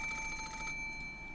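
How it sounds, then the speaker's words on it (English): The tail of a rapid metallic bell ring from an antique extension phone in the visual novel Umineko, clear and close, cutting off after well under a second into quiet room tone. "At that time, suddenly the piercing sound of a phone rang through the room."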